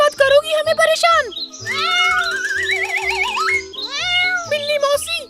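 Cartoon cat meowing in a kids' horror comedy set in a haunted mansion, a long wavering cry mixed with higher meow-like calls between stretches of lively voices speaking.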